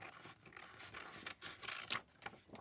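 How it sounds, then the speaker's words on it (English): Small scissors snipping around the edges of a printed light cardstock piece in a careful fussy cut, a close, quiet run of short crisp cuts and paper rustles with brief pauses. "I'll just cut that out. You get to see me fussy cut."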